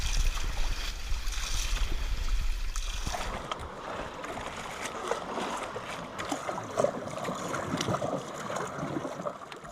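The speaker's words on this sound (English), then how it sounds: "Navigating these archaic boats through the mangroves seems like a journey through time." Old wooden boats move through a mangrove channel in Madagascar, with a steady wash of water and hull noise. A low rumble fills the opening seconds, then continuous splashing and gurgling run throughout at moderate level.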